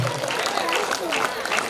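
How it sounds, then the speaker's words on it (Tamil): Audience applause during a prize-giving at a Krishna Jayanthi festival, continuous clapping with someone talking over it. "கொஞ்சம் கைதட்டுங்க, கைதட்டுங்க,"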